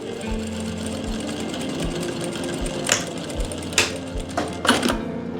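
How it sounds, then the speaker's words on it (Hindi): A sewing machine stitches lace onto a dupatta with a fast, even mechanical thumping and whirring, close and loud, joined by a few brief clicks and rustles toward the end. "तो ऊपर से आपने सिलाई लगा देनी है"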